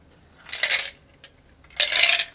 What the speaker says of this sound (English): let's stir in our chilled coupe